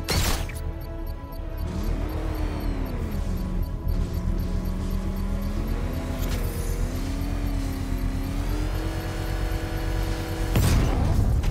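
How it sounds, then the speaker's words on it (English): A controlled bomb explosion triggered with a power winch in the game Batman: Arkham Knight, heavy booming crash layered over loud continuous engine and machinery roar with rising and falling whines, a sharp burst near the end. "I can use the power winch to trigger a controlled explosion."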